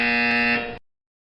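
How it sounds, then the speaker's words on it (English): A single steady electronic buzzer tone, loud and close, holding for just under a second before cutting off abruptly into silence. "You will hear a buzzer"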